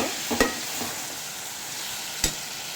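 Brinjal pieces frying in a little oil, a soft, faint sizzle under a couple of sharp knocks from a spatula or spoon against the pan.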